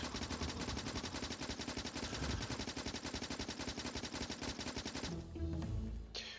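Turrets in the Warptorio mod for Factorio fire rapid, continuous machine-gun bursts, a dense rattling stream of shots that stays loud and unbroken for about five seconds before cutting off abruptly.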